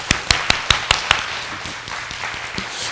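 Scattered, sparse claps from a church congregation giving encouraging applause after a prayer, a few sharp near claps at first then fading into a soft, diffuse patter.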